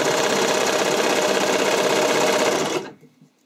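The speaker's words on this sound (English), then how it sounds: "So I sew a couple stitches" A sewing machine runs in one steady, continuous burst while stitching elastic onto the leg openings of fabric briefs, then stops abruptly near the end, leaving near silence.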